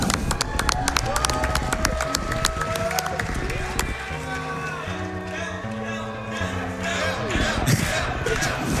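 Dense crowd noise from a live speedrunning charity marathon audience at AGDQ 2019, a steady wash of cheering, clapping and chatter with game sounds mixed in, loud and continuous throughout.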